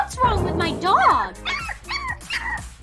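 Game dog in a pet-shop simulator, sick with a large splinter in her paw, lets out high, wavering whimpers and yips that rise and fall over the first second, followed by shorter whining cries, close and clear.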